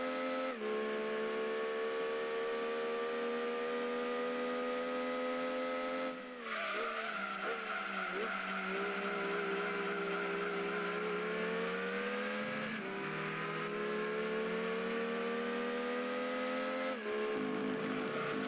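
Mazda MX-5 Miata engine in Gran Turismo 2, a steady high buzzing whine that holds its pitch, dips briefly during gear shifts, then climbs again, loud and continuous with no talking.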